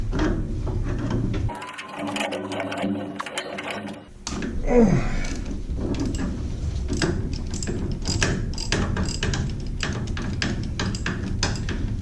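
A hand ratchet clicks rapidly and steadily while loosening the small bracket that holds the shifter on a car being stripped of its straight-six engine, loud and close, with a brief pause partway through.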